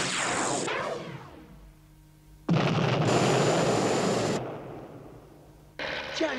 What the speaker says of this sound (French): Tiens, une explosion, ça vient de l'endroit où se trouve le sphinx.